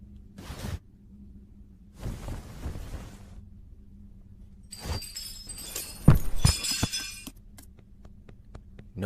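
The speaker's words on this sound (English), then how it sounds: "Nobody in the house hear all that glass?" Glass shatters in an animated Christmas horror story: a sharp crash with tinkling shards scattering and clinking for about two seconds, preceded by dull thuds and whooshes, and followed by a few scattered faint clicks.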